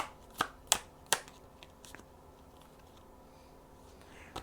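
Tarot cards snap and riffle in three quick crisp bursts near the start, followed by quiet room tone.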